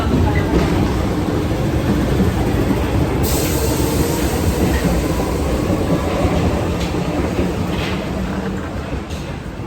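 A Paris metro train gives a loud, steady rumble heard from close by, with a few sharp metallic squeaks, easing off slightly toward the end.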